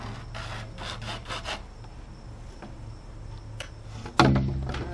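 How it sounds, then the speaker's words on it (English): A piece of sump pump discharge pipe is hand-sawn, giving a run of close, evenly paced rasping strokes that fade into softer scrapes, before a sharper clunk near the end. "So I'm just going to cut a piece of pipe to fit between the 90s."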